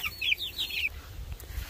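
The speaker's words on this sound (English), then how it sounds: "We got the little rooster." A small rooster gives a short burst of quick clucks, a few rapid chirpy calls close by in the first second, then fades into a low outdoor rumble.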